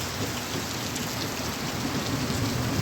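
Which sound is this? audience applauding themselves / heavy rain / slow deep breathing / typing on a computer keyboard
heavy rain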